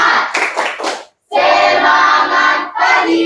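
A group performs the Indonesian 'tepuk semangat' spirit clap, a burst of several rhythmic claps, a brief pause, then sustained loud clapping from the crowd, close and energetic.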